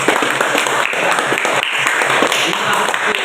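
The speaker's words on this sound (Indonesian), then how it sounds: "Kita tepuk tangan untuk kelompok 1." Students in a civics classroom applaud a discussion group, a loud, close, continuous clatter of many hands with some voices under it.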